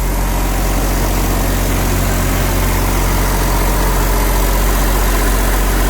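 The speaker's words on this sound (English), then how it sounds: "So up front we have a PowerTech diesel generator. You can hear it running perfectly." A PowerTech diesel generator in a 1999 Newmar Dutch Star 38-foot motorhome runs with a steady, loud, low drone and a constant even hum, with no talk over it.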